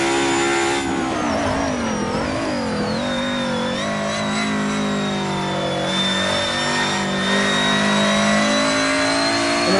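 A car engine in the Assetto Corsa racing game revs loudly and continuously, climbing and falling in pitch through gear changes, with a high turbo whine running along the top for the whole stretch.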